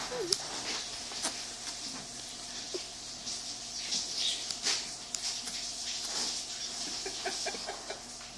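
Tiny high-pitched chirps come in sparse, brief bursts, faint and close, over a low background hum.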